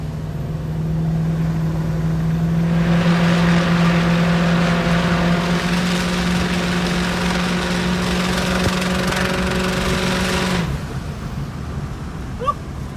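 A BMW's engine drones loudly and steadily for about ten seconds, straining as it climbs a hill, then abruptly drops away to quieter background noise.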